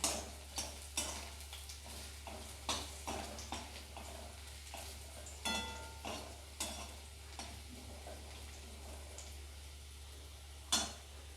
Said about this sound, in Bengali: এটাকে ভালো করে এইভাবে ভেজে নিতে হবে